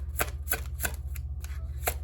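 Tarot cards shuffled by hand: a series of short, crisp riffling bursts in a steady rhythm about every third of a second, close and fairly quiet over a low steady hum.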